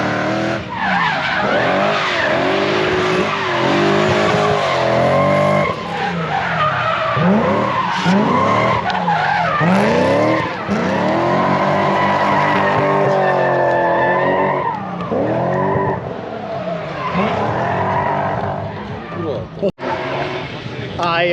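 A car driving with skidding, squealing tires: loud continuous engine noise and repeated rising and falling tire squeals over about twenty seconds, with voices in the background.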